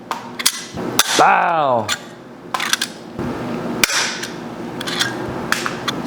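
A rivet gun pops rivets beside a vapor-blasted canister during a Honda CR500 two-stroke dirt bike build, giving several sharp, close snapping clicks, with a voice briefly exclaiming between them.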